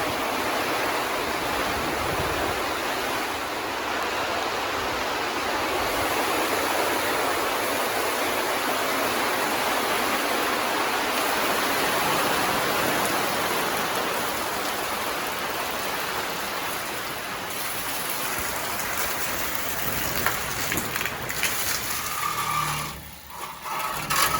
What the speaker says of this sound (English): In the middle of working, we got a rainstorm going on right now.